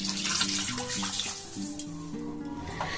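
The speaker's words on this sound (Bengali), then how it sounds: "উষ্ণ গরম জল আমি একটুখানি দিয়ে দিলাম।" Warm water poured into a cooking pot while preparing a katla fish curry with potatoes, a steady, close splashing pour lasting a few seconds with a melodic tonal backing running underneath.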